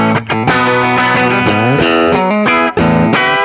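A JMB J-Caster "Bernie" model electric guitar plays through a Deluxe Reverb amp model with effects, ringing out loud and close in sustained chords and sliding notes, with short breaks between phrases and no talking.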